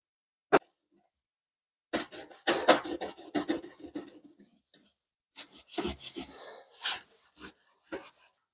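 A medium Scotch-Brite pad scrubs a rusty metal guillotine in short bursts of abrasive rubbing, separated by pauses, close and fairly crisp after a single sharp knock at the start.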